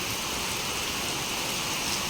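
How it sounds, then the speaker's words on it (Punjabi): Heavy monsoon rain roars near the Lohgarh fort in a dense, unbroken hiss, loud and close, with no voices or other sounds breaking through. "ਹੁਣ ਦੇਖੋ ਮੀਂਹ ਕਿੰਨਾ ਪੈਣ ਲੱਗ ਗਿਆ ਮੀਂਹ ਨੇ ਮਚਾਤੀਆਂ ਤੜਥਲੀਆਂ"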